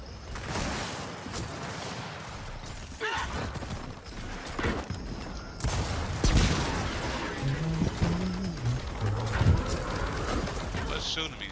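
Gears of War 4 horde-mode combat with clanking mechanical noise, scattered gunfire bursts and heavy impacts throughout, busy and close, with a player talking over the action.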